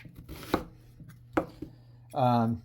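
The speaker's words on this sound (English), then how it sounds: "we're going to cut the onion in half" A knife chops through an onion on a cutting board with two or three sharp, close cuts. A short burst of speech closes it.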